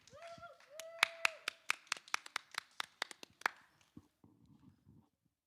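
Sharp, uneven claps from a handful of people at a young entrepreneurship challenge grand finale, roughly a dozen distinct hand claps over a few seconds, with a voice and a tone at the start before it trails into quiet murmur.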